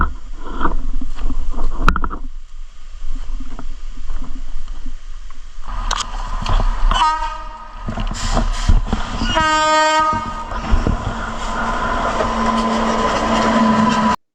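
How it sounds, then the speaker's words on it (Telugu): A train rolls past on a track near a waterfall, its wagons rumbling close and loud throughout, with a horn sounding in short repeated blasts midway over steady rushing background noise. "మేము ట్రాక్ దగ్గరికి వచ్చేసరికి సడన్ గా ట్రైన్ అయితే వచ్చేసింది."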